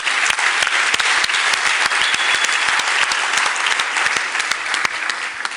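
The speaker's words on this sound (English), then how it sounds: "Please give him a round of applause." Applause for Zolani Bongo at a book launch in Port Elizabeth, a lively room of clapping with distinct sharp claps standing out from the steady crowd patter.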